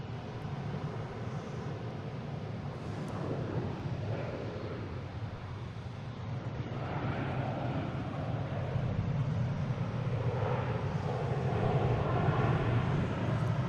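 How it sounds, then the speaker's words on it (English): Delta Airbus A321 arriving from Atlanta at Boston Logan, a steady broad jet roar from a distance that swells gradually over several seconds, mixed with wind noise and no talk. "we have Delta coming in from Atlanta, an A321"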